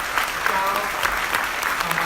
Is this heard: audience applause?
yes